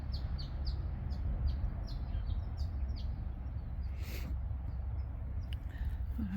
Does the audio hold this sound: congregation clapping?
no